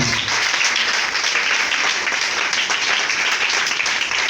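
Church congregation applauding loudly during worship, a dense, sustained wash of many hands clapping at once with no break.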